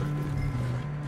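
Horse hooves clip-clop in Red Dead Redemption 2, a steady muffled beat under a constant low drone with no talk.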